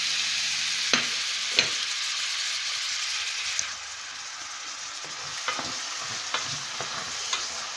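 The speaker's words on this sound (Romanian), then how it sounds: "Aici am pus uleiul să se prăjească și adaug prima dată ceapa" Onion frying in hot oil for a Romanian ghiveci gives a continuous bright sizzle close by, broken by a few sharp knocks and scrapes of a utensil in the pan; no talking.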